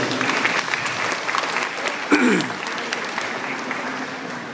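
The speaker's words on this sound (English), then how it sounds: "I want to give a quick round of applause to Judy and Jasmine and the team" An office crowd at an appreciation day in Manila gives a quick round of applause, dense continuous clapping filling the room, with a short voice or whoop rising briefly midway.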